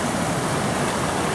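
A small stream flows through a forest, giving a steady, dense rush of water noise up close with no break and no talk.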